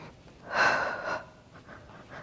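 Breathing during a Pilates reformer exercise; one strong, airy breath swells and fades close to the microphone, followed by a few softer, shorter breaths.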